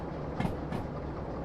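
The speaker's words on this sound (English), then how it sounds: "I'm going to have to wait for the back of the train to pass" A freight train rolls past in the Derail Valley simulator game, a steady rumbling wash of rail noise with faint clacks, fairly quiet and continuous over the short stretch.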